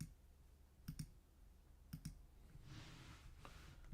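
Computer mouse clicks in quick pairs, two double-clicks about a second apart, faint and close, with a soft shuffle of handling near the end and no talking.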